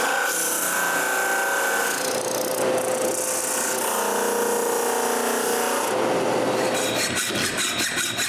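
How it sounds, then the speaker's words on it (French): Drum sander smoothing the edges of a wooden tripod piece, a continuous loud abrasive whirring and rubbing with shifting tones, no talking. "J'arrange ça avec la sableuse à tambour."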